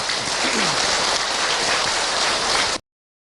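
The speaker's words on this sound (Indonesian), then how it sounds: "Tepuk tangan ibu untuk Ahilman." An audience, mostly women, applauds a young boy at an Islamic religious talk, a dense, hissing, rain-like patter of many hands that holds steady for nearly three seconds and then cuts off abruptly.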